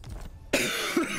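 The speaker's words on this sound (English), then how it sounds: "This fucking cough." A single harsh cough, close and fairly loud, bursts out midway after a quiet stretch, trailing into a rough throat-clearing rasp, during a livestream of Total War Warhammer Immortal Empires.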